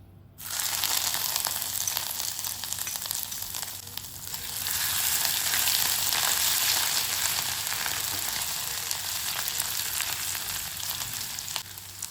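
Ginger and green chilli paste frying in a pan for Bengali dal puri filling, a loud, continuous sizzle with stirring and crackle that rises midway and stays dense until the end, no talk.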